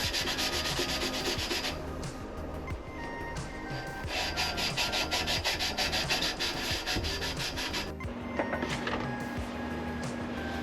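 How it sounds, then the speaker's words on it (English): A purple-painted roll cage on a drift car is scrubbed with Scotch-Brite, giving a loud continuous raspy rubbing in quick back-and-forth strokes, broken by a brief pause and a thump before the scuffing resumes. "We'll start off with just some Scotch-Brite. We'll sand everything up, and we'll wipe it down and paint it a different color."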